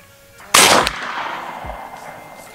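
AEA Challenger Elite air rifle fired once, a sharp loud crack followed by a brief fading tail and faint mechanical clicks, close by.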